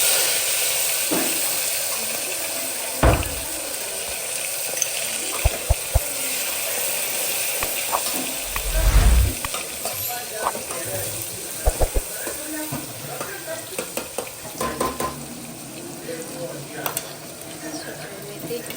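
Garlic and tomatoes frying in a pan on a gas stove, with a steady sizzle and hiss, a few sharp clinks and knocks of a utensil against the pan, and a brief burst of louder spitting partway through.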